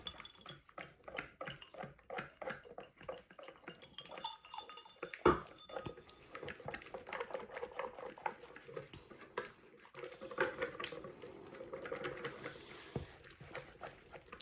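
Caesar salad dressing whisked in a bowl: a steady run of quick, light scraping and tapping strokes against the bowl, close and fairly quiet, with a brief sharper knock midway and no talk.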